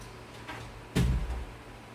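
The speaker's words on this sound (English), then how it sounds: "Is it okay to you, ma'am, if I close the door?" A door closing in a clinical room during a vital-signs demonstration: one solid thud near the middle, fairly close, with a short low rumble after it and quiet room tone around it.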